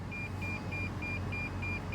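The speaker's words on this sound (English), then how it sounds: "I'm sorry about the beeping. I can't turn it off. It's on my warning because I'm next to the wall." A parked car's proximity warning, triggered by a nearby wall, repeats a thin high electronic beep in an even rapid pattern over a low idling hum inside the cabin.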